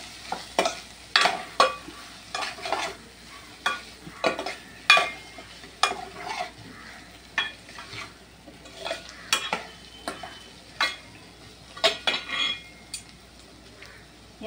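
A spoon stirs onion-garlic masala and spices for chana masala in a frying pan, giving repeated scraping clinks and soft sizzling in an irregular rhythm, close and moderately loud with no talk.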